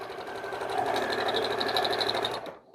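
A sewing machine runs steadily as it stitches small appliqué pieces together. There is a fast, even whirring with a rhythmic needle clatter that lasts a couple of seconds, then stops abruptly.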